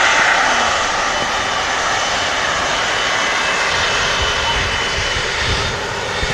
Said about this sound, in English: 12-year-old A319 Foxtrot uniform on the reg.